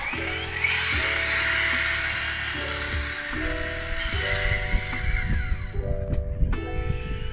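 A high, strained mechanical whine with stepped harmonic tones rising and falling as an RC short course truck's drivetrain revs with unhappy gear mesh, close and continuous with gritty rattling underneath.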